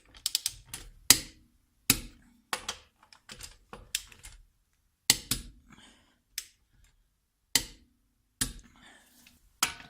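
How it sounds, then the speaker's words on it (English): A torque wrench ratchets lug nuts tight on a Honda Insight wheel, sounding as sharp, close metallic clicking bursts separated by short pauses of silence, roughly a dozen in a row. "Now I'm going to torque these."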